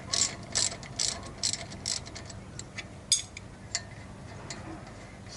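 Ratchet wrench turning a nut during a brake job on a 2012 Jeep Wrangler JK, giving quick bursts of sharp clicking, a few clicks per stroke, close and clear.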